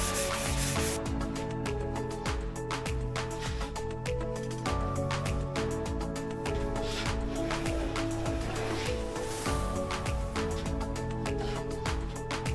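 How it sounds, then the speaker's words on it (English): Sandpaper is rubbed back and forth along the tops of wooden miter saw fence rails, a steady close rasp of repeated strokes, heard under continuous background music. "I'm going to sand the top of these rails"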